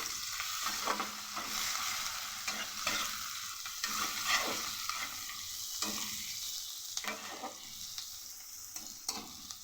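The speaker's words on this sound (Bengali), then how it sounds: "পেঁয়াজটা হালকা ভাজা হয়েছে" Chopped onion frying in a pan, a continuous close sizzle with soft repeated stirring scrapes throughout, no voices.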